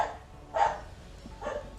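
A dog barks twice in a room, faint and at a distance, with two short separated yaps and quiet background between them.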